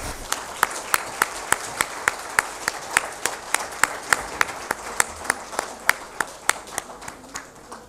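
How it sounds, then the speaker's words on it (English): A conference audience at a banking and economics conclave claps in a steady, evenly paced rhythm of sharp, distinct claps, sustained at a moderate distance for several seconds with no talking over it. "And a big round of applause."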